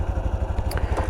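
Honda Super Cub motorcycle engine idling when warm, with noisy valves: a close, even low chugging pulse with a scrapey mechanical clatter on top, no talk.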